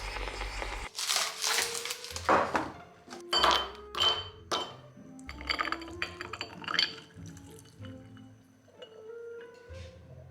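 Ice cubes clink and rattle in a glass as iced coffee is poured and stirred, with a few sharp close clinks, crunching shifts of ice and quieter liquid trickles between them.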